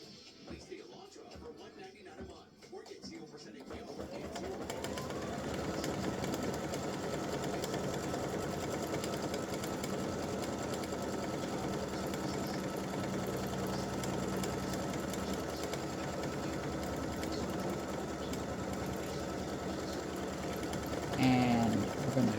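Embroidery machine stitching a tack-down, a steady rapid mechanical chatter that starts after a few seconds and runs continuously and close, with faint talk over it.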